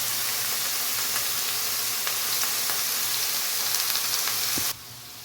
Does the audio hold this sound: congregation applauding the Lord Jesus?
no